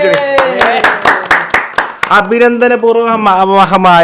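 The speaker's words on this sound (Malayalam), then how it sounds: "കൈയടിച്ചാണ്" Hands clap in a quick rhythmic series, sharp and close, while voices sing or chant loudly over them throughout.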